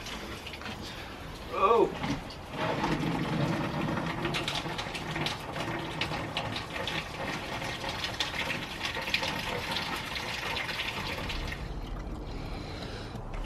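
Car coolant drains from the radiator in a steady gushing, splashing pour into a pan, continuous and close, with a short exclamation from a voice near the start.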